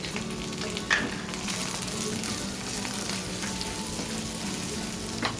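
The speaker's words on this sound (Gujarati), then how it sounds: "બધાને સરસ રીતે સાંતળી દેવાનું છે." Ginger, chopped green chillies and onion sauté in hot oil for Pune misal, a steady close sizzle and crackle with occasional stirring clinks throughout.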